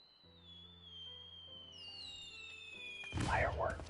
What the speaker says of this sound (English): Yes, horribly startled by the fireworks.